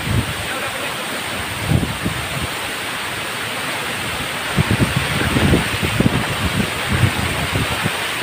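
Steady roar of rushing, falling water from the Cilember waterfall fills the scene, broadband and continuous, with a few faint bumps and splashes nearby.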